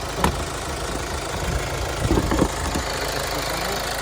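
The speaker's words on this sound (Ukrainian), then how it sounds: "мотор працює рівно" A 2012 Hyundai ix35's 2.0-litre 135 kW diesel engine idling under the hood, a steady close rumble with a faint knocking clatter and a few brief louder bumps, no speech.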